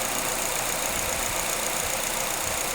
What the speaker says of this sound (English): I wouldn't recommend revving the engine when it's cold, but hey, anything for a test